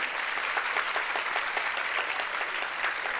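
A church congregation at a Catholic Mass on Good Shepherd Sunday bursts into steady, dense applause that fills the whole stretch, with no voices over it.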